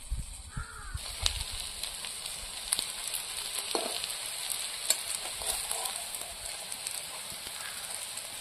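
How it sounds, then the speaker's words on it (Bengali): Small shrimp fritters sputter and crackle in hot oil with a steady sizzle, sharp pops and occasional stirring, while a crow seems to caw faintly in the background. "বড়াগুলো এইভাবে ভেজে নেব।"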